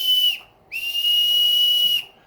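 A high, steady whistle from a figure's bird sounds twice, a short blast followed after a brief gap by a longer sustained one, loud and clear with nothing else around it.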